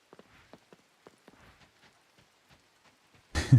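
Rain patters in the farming game Coral Island as sparse, quiet individual drops tapping at irregular intervals, ending with a sudden louder burst of noise.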